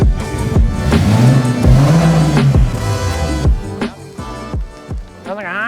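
A car engine idles and revs with rising and falling pitch, fairly loud and close, with talking mixed in and then the engine settling down.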